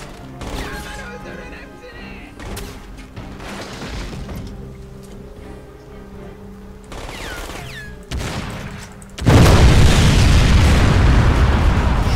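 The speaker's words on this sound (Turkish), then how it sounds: "patladı" Crysis game sound effects and scattered pops give way to a loud, roaring explosion that rumbles on with crackling debris toward the end.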